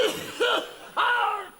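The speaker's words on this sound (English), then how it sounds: "I got a slight cough." Two harsh coughs in quick succession, close and fairly loud, with a short pause between them.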